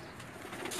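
A special pigeon gifted from Mecca, kept in a Pakistani pigeon flock, gives a short, close, soft coo lasting under a second.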